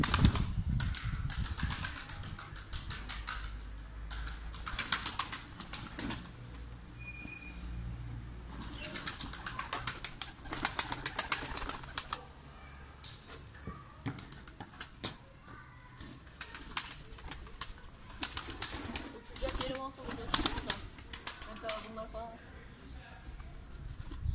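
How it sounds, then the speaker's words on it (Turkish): Bursts of wing flapping from several pigeons come and go, with soft cooing and a person talking in the background. "Kuşlar uçmaya hevesli, evet."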